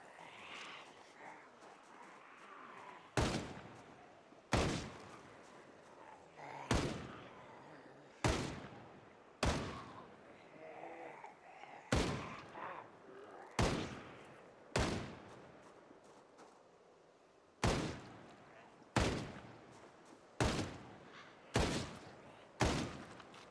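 Gunfire in the video game Project Zomboid, a run of about fifteen loud, sharp single shots spaced one to two seconds apart, each with a short decaying tail.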